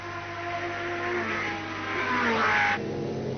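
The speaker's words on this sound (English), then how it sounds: "That's the car of Mario Baldi, number 5. The Turbo Sport Peugeot 905." Mario Baldi's number 5 Peugeot 905 turbo sports prototype races past at Le Mans in 1991, its engine note rising to a loud close pass and then cutting away sharply.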